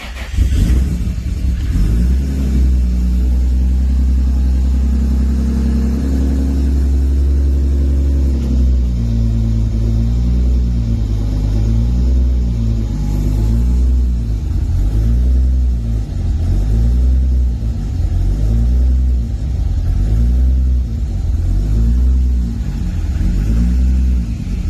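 A 1997 Toyota Supra Turbo racecar running on ethanol fuel fires up from cold, cranking then catching into a loud, close idle that settles into a rhythmic, pulsing lope with steady rumble throughout.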